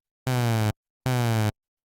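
Two identical buzzy synthesizer notes, each about half a second long with a short gap between them, played on a synth set up with a slow downward pitch envelope. The pitch barely shifts within each note, and no one speaks.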